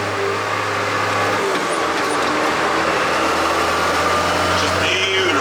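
Tractor running on air suspension pulls trailers loaded with straw bales, a steady, smooth engine drone from inside the cab, constant and even throughout with light rumble and a faint hiss near the end.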